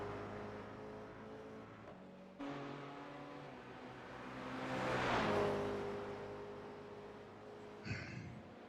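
Race car engines in a racing sim, a stream of the NEC series in a rice toaster car with a damaged radiator and lost top end: steady engine drone, with a faster car approaching and swelling loudly past mid-clip, then fading.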